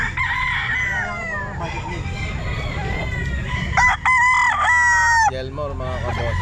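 Stag roosters at a pet market crow loudly nearby, a long crow first, then a sharper one later, over background clucking and crowd murmur.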